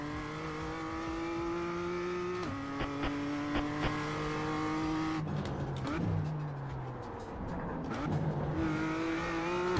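GT3 race car at Sebring in the iRacing sim, its engine droning loud and steady with gear changes and revs rising and falling, tyre squeal near the middle; no talk.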